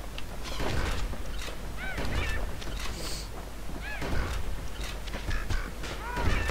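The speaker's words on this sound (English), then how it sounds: "Oh, goddamn birds." In the video game Bastion, birds give repeated honking calls in short bursts over a busy background of game sounds, several calls a few seconds apart.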